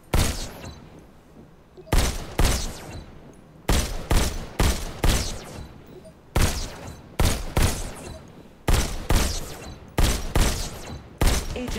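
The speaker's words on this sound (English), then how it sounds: "Just squeeze the trigger to shoot." Rapid bursts of pistol gunfire in the VR game Robo Recall, loud and close, coming in clusters of quick shots separated by short pauses, with no talking over it.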